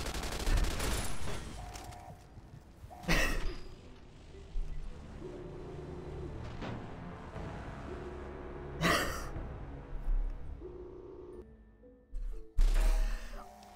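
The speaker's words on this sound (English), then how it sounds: "I mean, look, I have a machine gun, right?" Gunfire from a machine gun in the video game Fallout: New Vegas, several loud sharp bursts spaced apart over a low background rumble, with a few faint breaths between them.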